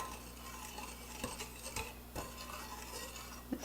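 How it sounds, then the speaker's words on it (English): Flour, salt and sugar being mixed in a bowl for bacon cheddar beer bread, with soft, close scraping and stirring and a few light utensil taps against the bowl. "Now we're just going to mix this up well."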